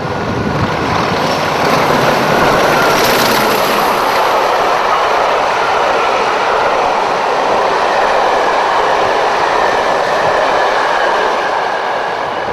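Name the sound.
Class 40 diesel locomotive 145 passing Abergele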